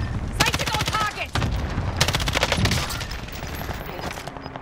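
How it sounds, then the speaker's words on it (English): In Call of Duty: Modern Warfare, rapid automatic gunfire rattles in long, dense bursts with a few heavier shots. The shooting runs almost without a break, and a voice talks faintly beneath it. "I'm getting shot at from somewhere else."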